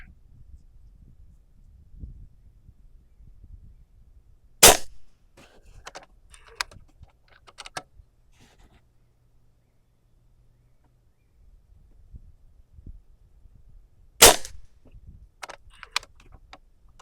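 Niksan Elf .22/.25 caliber PCP air rifle firing two sharp, loud shots about ten seconds apart, each followed by faint clicks and handling noise, outdoors with a quiet background.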